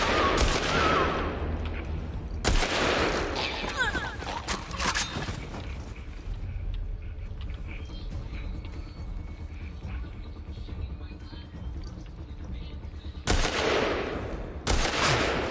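Rifle fire in The Last of Us Part II, loud bursts of rapid shots at the start, again a little later and once more near the end, with quieter tense game noise between.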